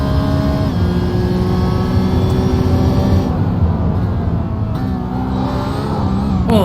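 Racing car engine in a Porsche Carrera Cup sim racing game, a steady loud drone with rising and falling pitch as the car accelerates and shifts, continuous with no voices.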